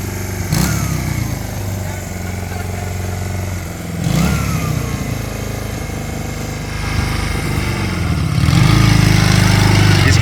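A Honda 175 motorcycle on a first test ride at a gymkhana-style event at Kaplan Cycles, its engine chugging and revving in surges, swelling louder and rougher toward the end, with voices in the background.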